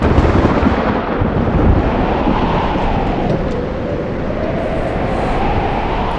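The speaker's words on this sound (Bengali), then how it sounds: "বাইরে তো বিশাল ঝড় উঠলো দেখছি।" A big storm roars outside with strong wind, a dense, loud, continuous rumbling rush that swells and sags without a break, thunder blended into the gusts.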